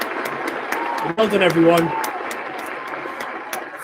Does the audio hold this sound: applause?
yes